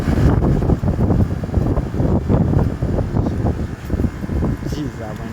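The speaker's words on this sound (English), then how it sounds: "Jeez, that wind is crazy." Strong gusts of wind buffet the microphone outdoors beside a 2018 Goodman 3.5-ton heat pump, a loud, ragged low rumble rising and falling throughout while someone talks over it.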